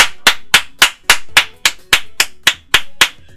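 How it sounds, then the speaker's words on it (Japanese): A single pair of hands clapping in a slow, steady rhythm, about a dozen sharp claps close by, with no talking. "皆さん、拍手をお願いいたします。"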